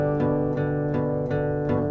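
An acoustic guitar is strummed quickly in a simple down-up pattern, evenly spaced bright strokes over ringing chords, loud and close with no voice.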